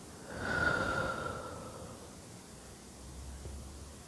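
A slow, soft exhalation during a calm mindfulness meditation, one long airy breath out swelling then fading, close and quiet with no talk.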